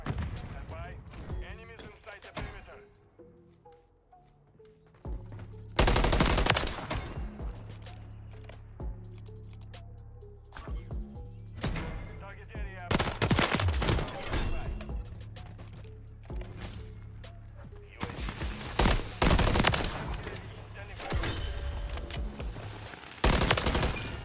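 MCW rifle gunfire in Call of Duty MW3, with bursts of automatic fire in repeated loud clusters separated by quieter stretches of game ambience and a voice speaking now and then.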